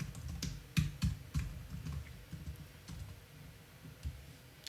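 Typing on a computer keyboard while writing code: quiet, irregular keystrokes in small bursts with short pauses, close by and alone.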